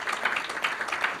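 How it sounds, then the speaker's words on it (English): Steady applause from a crowd at a legislative networking reception, many hands clapping together in a dense, continuous patter. "round of applause for him."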